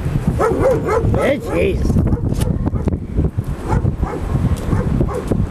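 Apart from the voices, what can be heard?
dog barking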